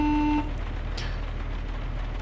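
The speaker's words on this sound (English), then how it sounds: "Can you hear horn beeping while pressing horn?" A vehicle horn in the ARMA Reforger video game gives one short, steady electronic-sounding beep at the start, then stops, leaving a low rumbling background.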